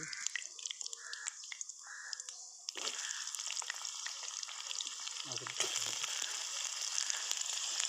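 Onions dropped into hot oil with spices in a pan, starting with a few faint clicks, then a sudden sizzle that grows fuller and louder as frying takes hold, close and steady.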